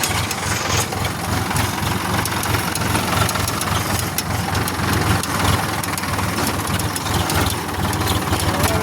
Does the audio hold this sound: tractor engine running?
yes